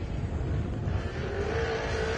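A race car at a Chandler, Arizona race runs with a rough, tractor-like engine drone, a steady loud roar over about two seconds with no voices.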